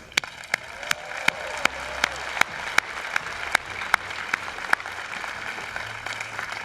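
A graduation audience applauds steadily, a dense wash of clapping with a few sharp, louder claps standing out at close range.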